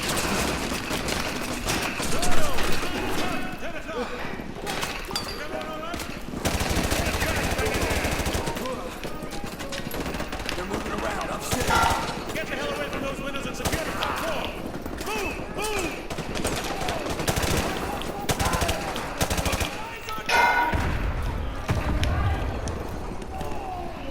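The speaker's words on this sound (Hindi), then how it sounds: "हमें फायर ने हिट कर दिया है" Gunfire in a Call of Duty Modern Warfare 2 campaign mission while clearing a building, with repeated shots and bursts over busy game sounds and music across the whole stretch.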